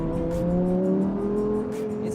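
A supercar engine, from a McLaren 600LT, Lamborghini Huracan Performante or Ferrari 488 GTB, holds a loud, steady high rev with a rising, layered tone, heard close up with no voices.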